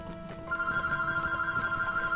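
A telephone rings during a Lord of the Rings Online game session, a steady electronic trill starting about half a second in and continuing to the end, fairly loud over faint game background sounds.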